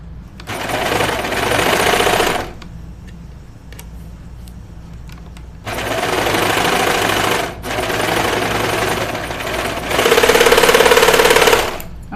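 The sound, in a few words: serger sewing knit fabric for Lucida dress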